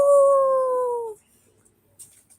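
A person imitates a dog howling at the moon with one loud, sustained tone lasting about a second. It cuts off abruptly and leaves near silence with a few faint ticks.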